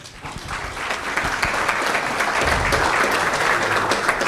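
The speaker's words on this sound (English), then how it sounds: "so he deserves a big round of applause." An audience at an awards ceremony in Baku, Azerbaijan breaks into applause, the clapping swelling from a thinner start into a full, sustained roar of many hands in a large hall.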